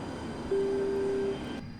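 A BAC One-Eleven 300 jet in the Prepar3D V5.4 flight simulator gives a steady, continuous engine roar with a sustained tonal whine, holding at constant loudness with no talk over it.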